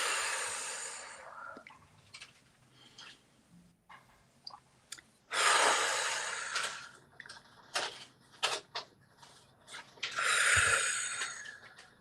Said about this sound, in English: let's end as we began with 3 deep breaths.